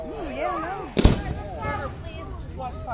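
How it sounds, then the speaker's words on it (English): A single loud firework blast booms during a fireworks show in Kansas, a sharp crack rising over a person's chatter before and after. "Please just watch fireworks. Oh my God, those are loud."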